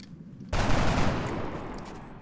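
Gunfire in the XCOM: Enemy Within video game: a sudden loud burst of shots that cuts in after a quiet moment and rolls on in a dense, crackling fusillade before slowly fading.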